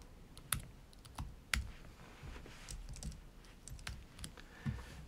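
Steady typing on a computer keyboard, close and fairly quiet, with irregular bursts of key clicks and a few heavier keystrokes, with no voices.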